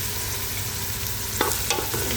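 Meat sizzling as it hits a pan of frying onions and green beans, a dense steady crackle and hiss throughout with a few brief clinks and scrapes of stirring near the end; close and fairly loud, no talk.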